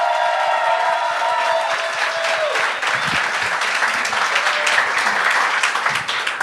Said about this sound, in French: On donne un maximum d'applaudissements, s'il vous plaît, à Otman Daff!